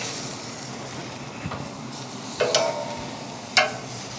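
A frozen steak sizzles on a grill after being flipped, giving a steady close hiss broken by a few short scraping clatters, heard alone with no talk.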